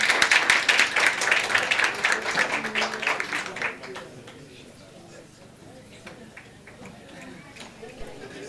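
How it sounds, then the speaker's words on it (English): At a symposium on internet access, an audience claps for departing panelists: a dense burst of hand claps that thins and fades after a few seconds, leaving scattered claps and room murmur with some speaking. "can we clap hands for them?"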